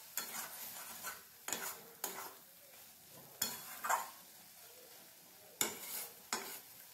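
A spoon or spatula scrapes and stirs bottle gourd cooked with poppy seed paste in a wok, in a handful of brisk, close scraping bursts with a soft sizzle between them.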